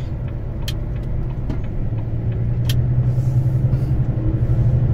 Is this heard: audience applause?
no